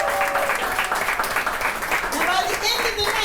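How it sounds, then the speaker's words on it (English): A crowd applauds at a Portugal Day kickoff celebration, a dense, steady wash of clapping and cheering that holds at even loudness throughout, with voices mixed in. "Clap your hands for Antonio."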